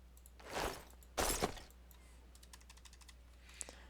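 Short flurries of computer keyboard typing, quiet and close, with a couple of louder clattering bursts followed by lighter scattered key clicks.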